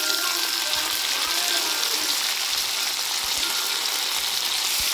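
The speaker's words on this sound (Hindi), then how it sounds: "ये अच्छी तरीके से भून लेना और इस पॉइंट पर हल्दी डालना चाहिए" Green chilli, red chilli and curry leaves sizzle steadily in hot oil in a pan, a loud continuous close-up frying hiss with faint stirring knocks underneath.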